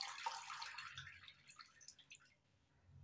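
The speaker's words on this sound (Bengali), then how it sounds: "জল ঝরিয়ে তুলে নেব।" Water draining and dripping from freshly grated potatoes piled in a large strainer, a quick splashy trickle at first that thins into scattered close drips, heard alone without talk.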